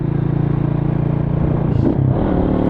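Motorcycle engine revving up close: a loud, throbbing idle rhythm that swells into a brief rev near the end, with no talk over it.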